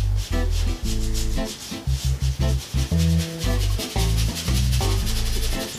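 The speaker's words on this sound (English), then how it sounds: "You can hear me with the brush rubbing it close." A paint brush rubbing against a wall during sponge painting of a man cave, producing loud, close scratchy strokes in a continuous uneven rhythm with no talk.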